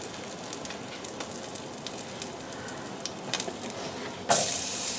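Mushrooms and onions fry in a pan for smothered pork chops, giving a steady, moderately quiet sizzle throughout that swells into a louder, hissier burst near the end, with no talking.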